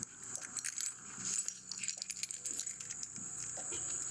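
Keys jangling while someone walks around outdoors, a bright metallic rattle that comes in quick uneven bursts close to the microphone, with no talking.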